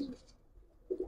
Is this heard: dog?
no